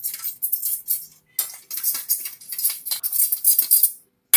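A spoon scrapes and clinks against a bowl while tomato sauce and other ingredients for chicken Manchurian are stirred into a paste, a steady run of light, close scraping strokes with brief pauses.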